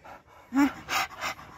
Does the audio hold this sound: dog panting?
yes